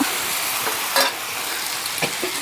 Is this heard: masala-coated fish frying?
yes